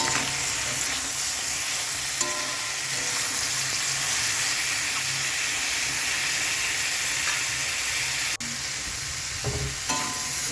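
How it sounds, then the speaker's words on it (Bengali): Vegetables frying in white oil for shukto, a Bengali mixed-vegetable dish, give a steady, close sizzle. Brief stirring clatters break through now and then, and nobody speaks. "একটু বেশ লাল লাল করে ভেজে তুলে নেবো একটু তেল দেবো এর মধ্যে সাদা তেল"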